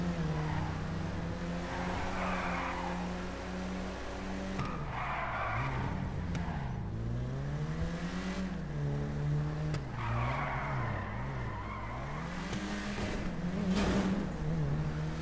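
Tyres squeal and slide as a car drifts through gymkhana moves in GTA Online, engine tone rising and falling with each slide, several long skids in a row with no talking.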